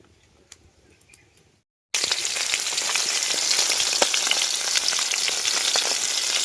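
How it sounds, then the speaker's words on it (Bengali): Steady, loud sizzling and crackling of koi fish frying in hot mustard oil, starting abruptly after a brief quiet moment and continuing without pause. "তেল দিয়ে দেব আমি মাছটা সরষার তেলে ভাজবো"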